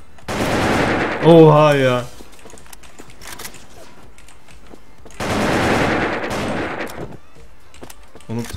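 Bursts of AK-47 automatic fire in a shooter video game, with two loud sustained volleys several seconds apart and scattered single shots between, while a voice exclaims briefly.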